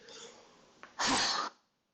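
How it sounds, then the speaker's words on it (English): A single sharp sneeze bursts out close by after a brief intake of breath, then fades into silence. "Gonna sneeze."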